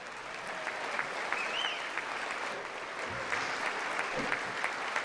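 Audience applause fills a large hall at a State of the Union address, a steady, dense clapping that runs unbroken from start to finish at moderate distance, with no talk over it.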